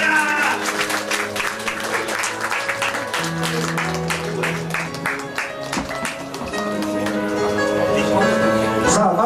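Audience clapping at an idol group ranking announcement event in Osaka, moderate and steady under music with tonal notes, fading slightly midway before swelling again.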